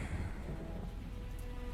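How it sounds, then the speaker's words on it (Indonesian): Heavy rain pours steadily over a campus in a radio drama, a dense hiss of drops on surfaces with a low rumble of thunder underneath, continuous and fairly quiet throughout. "hujan turun cukup deras saat itu"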